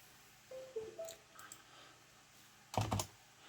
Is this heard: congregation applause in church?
no